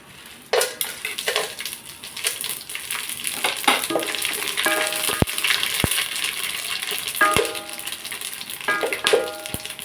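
Whole spices dropped into hot dalda sizzle and crackle in a metal pan, with spoon clinks and scraping against the pot throughout.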